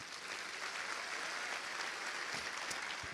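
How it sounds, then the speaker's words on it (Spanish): Church congregation applauding, a steady wash of many hands clapping at a moderate distance, continuous throughout. "Un aplauso al Señor."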